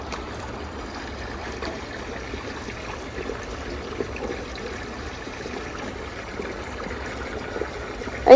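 Water flowing steadily over vegetable beds of okra and chilli plants, a continuous soft rushing trickle heard close with no talking.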